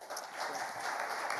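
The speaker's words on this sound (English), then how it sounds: "he deserves a big applause" Audience applause at a management association talk in Ludhiana, a brief steady wash of clapping from a full hall.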